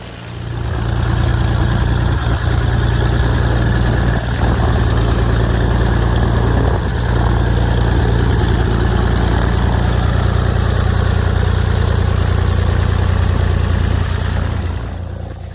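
A Saab Safir light aircraft's piston engine idles on all six cylinders, a steady, loud, deep drone with heavy low vibration that holds evenly nearby throughout, with no talking.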